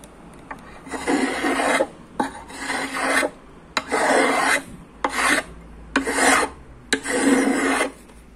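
Rasping file strokes level a guitar's fretboard in a series of about seven loud, evenly spaced scraping passes, each roughly a second long, with brief pauses between them and no talking.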